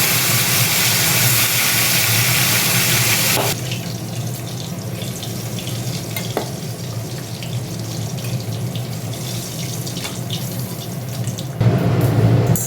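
Fish frying in hot oil gives a steady, loud hiss that is fullest for the first few seconds, settles into a softer sizzle through the middle, and swells again at the end, with no voices.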